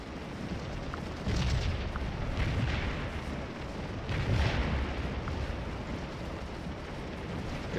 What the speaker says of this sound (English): Got the artillery doing a whole bunch of the work over here.